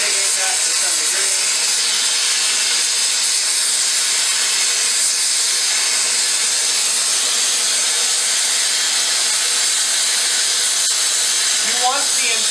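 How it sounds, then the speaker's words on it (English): A blacksmith's gas torch heating the edge of a steel cupping tool roars as a loud, steady broadband hiss for the whole stretch, with someone talking over it at the start and end. "Sorry if you guys can't hear me over the sound of the torch."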